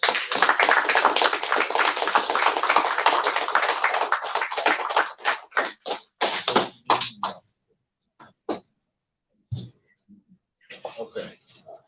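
A congregation claps together in sustained, dense applause for about five seconds, then it thins into scattered individual claps and bursts with quiet gaps between them.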